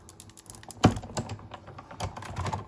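A Sizzix die-cutting machine cranks a finely detailed textured die through its rollers, producing a close run of dry clicks and rattles with one sharp, louder knock early on and no talking.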